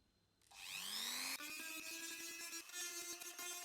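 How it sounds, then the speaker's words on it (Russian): A small rotary engraver spins up with a rising whine, then grinds the rim off a plastic basin in a steady high buzz broken by scratchy contact noises, close and fairly loud. "У меня для этой цели есть маленький гравер"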